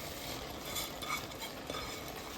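Basmati rice is added to kolambi bhat, a prawn rice dish, and stirred into the pot with its masala and salt. It makes a soft, continuous grainy rustle with faint scraping and light sizzle, quiet and steady.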